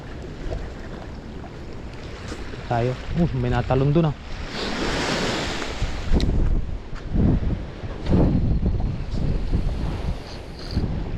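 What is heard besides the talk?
ocean waves crashing on the shore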